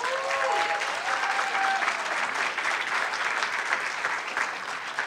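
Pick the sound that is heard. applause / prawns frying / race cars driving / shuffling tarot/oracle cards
applause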